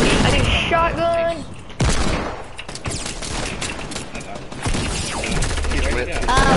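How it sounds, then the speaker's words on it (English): Rapid gunfire bursts in a shooter video game, dense volleys and single shots crackling loudly throughout, with someone talking over the action. "Where am I getting shot from?"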